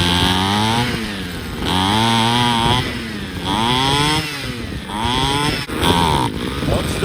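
A Ryobi CS26 string trimmer's small two-stroke engine runs loud and close, its pitch repeatedly sagging and recovering as it bogs down in uneven surges before faltering near the end.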